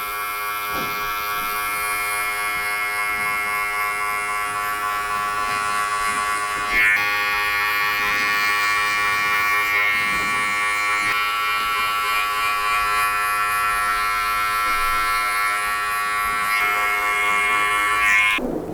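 Electric hair clippers cut afro hair for a low skin fade, a close, steady high-pitched buzz that holds for the whole stretch and shifts slightly in pitch as the blade meets the hair, with no voices.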